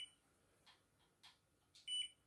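A few short, quiet electronic beeps from an automatic hair curling iron sound in a nearly silent room, spaced irregularly, ending with a slightly longer double tone.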